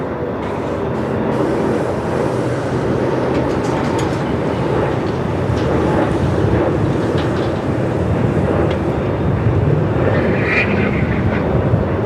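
Airbus A350 airliner at Melbourne Airport, a loud, steady jet roar filling the air with constant broadband rumble and no breaks, heard outdoors from the airfield.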